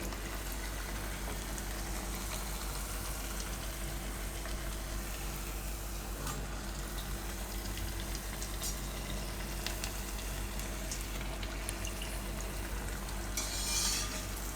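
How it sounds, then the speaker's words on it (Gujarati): Potato smileys frying in hot oil until brown, a continuous soft sizzle and bubbling throughout, with occasional faint clicks of a utensil and no talking. "તો આપણે એને બ્રાઉન જેવું તરવાનું છે."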